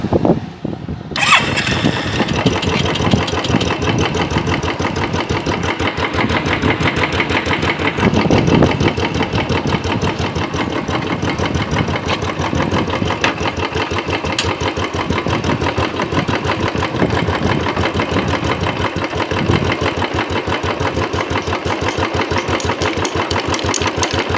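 A motorbike engine starts and settles into a steady, loud, close idle, running continuously during bike chain cleaning maintenance, with no voices.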